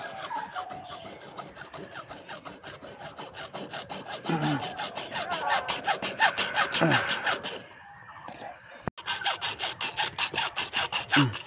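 A broken water motor pipe is cut by hand with a rapid, rhythmic back-and-forth sawing rasp, close up. It pauses briefly, then resumes at the same quick pace.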